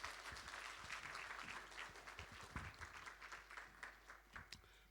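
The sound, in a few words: congregation applauding in church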